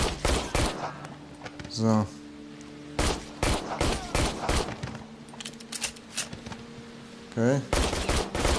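Rapid bursts of gunfire in the VR shooter Immortal Legacy, loud and close, with repeated volleys and short pauses, plus weapon handling clicks and someone speaking briefly.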